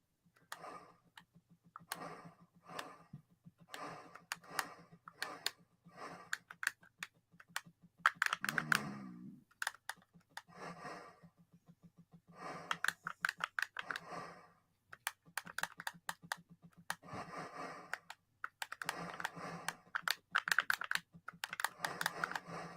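Rapid plastic button clicks from an Intellivision controller during a game of X-Rally, coming in busy bursts with short pauses, close and fairly quiet, with no talking.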